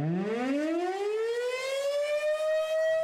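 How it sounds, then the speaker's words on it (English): An outdoor civil defense warning siren under test in Winnebago and Outagamie counties sounds alone as a single loud wail that rises steadily in pitch and holds. "A reminder, these sirens are intended for outdoor warnings only and not to be heard inside."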